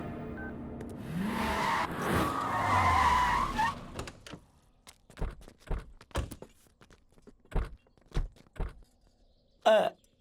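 A car skids to a stop with a loud, sweeping screech lasting several seconds, followed by a quiet pause and then a run of separate close thuds and footfall-like knocks.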